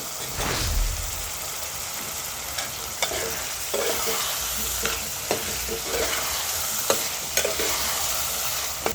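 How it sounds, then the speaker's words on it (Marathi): Raw potatoes with masala sizzle and fry in a pan, a constant crackling hiss broken by a string of sharp clicks and scrapes as a spoon stirs them, with no talking. "सारे बटाटे कच्चे आहे, हे परतून घेऊ।"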